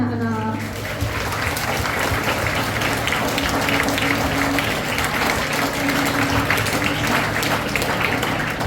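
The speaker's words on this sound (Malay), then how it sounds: "Beri tepukan anak-anak." Children and guests clap together at a school retirement ceremony for a teacher, a dense steady patter of many hands filling the room throughout, with a voice and some tonal sound underneath.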